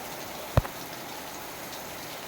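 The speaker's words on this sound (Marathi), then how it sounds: "किती पाऊस पडतो आहे ते" Heavy rain falls steadily as a soft, even hiss after a sunny spell turns wet, with one sharp knock standing out early on and no voices.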